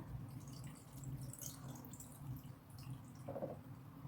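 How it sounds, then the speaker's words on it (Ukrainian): Water trickles and pours quietly into a three-litre glass jar of cabbage, with soft dripping and gurgling throughout. "Доливаю води."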